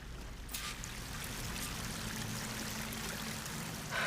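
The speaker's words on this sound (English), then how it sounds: "That waterfall must be coming from somewhere." A waterfall in the game Horizon Forbidden West gives a steady, full rush of falling water that holds evenly from start to end, with no voices.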